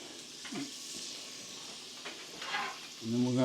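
Butter melting into bacon grease in a pot for potato soup, a quiet soft sizzle and hiss with a few faint clinks, getting a little louder near the end.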